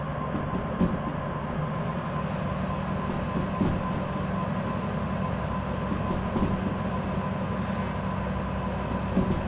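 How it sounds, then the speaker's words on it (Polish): Locomotive in the Derail Valley train simulator game rolling along with its dynamic brake applied, a steady droning rumble with a constant tonal hum and occasional faint clicks, no talk. "Użyjmy trochę hamulca dynamicznego, aby ostudzić zapały lokomotywy."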